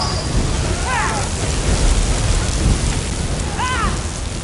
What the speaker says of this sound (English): All that lightning noise you hear? That's the lightning bolt.